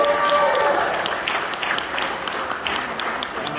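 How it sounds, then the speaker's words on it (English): Fans at a fan convention's anniversary weekend in Chicago applaud, a steady burst of clapping from a crowd with a few voices over it, slowly easing off. "Can we get a round of applause for Flashback?"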